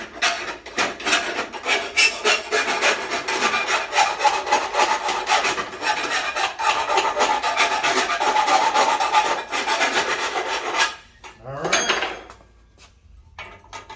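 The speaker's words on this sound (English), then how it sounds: "now I just file my frame" A file rasps steadily along the edge of a metal door frame, smoothing sharp edges so the frame sits level, with close, continuous strokes for about eleven seconds before the filing fades and stops.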